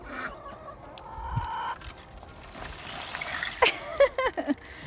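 Several short clucks and squawks from chickens pop up near the end, moderately close, over a low outdoor hum and light background noise, in icy winter conditions.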